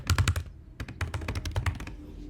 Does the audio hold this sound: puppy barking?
no